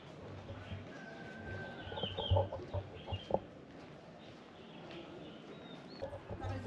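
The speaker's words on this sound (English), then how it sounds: "Can you hear the birds?" Faint birds chirp and cluck outdoors near temples in Ninh Binh, Vietnam, against a quiet, open background, with a few scattered calls rising briefly.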